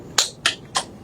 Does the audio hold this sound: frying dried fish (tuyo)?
no